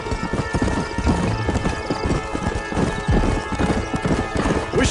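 A horse galloping in the Red Dead Redemption video game, rapid rhythmic hoofbeats pounding close and loud throughout, with a brief whinny and a voice urging it on.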